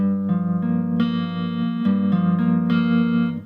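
Sustained ringing guitar notes with a bright, buzzy tone, several plucks shifting pitch in quick succession, close and unaccompanied.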